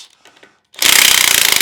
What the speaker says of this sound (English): you really need a power wrench to make sure that sucker doesn't start spinning on you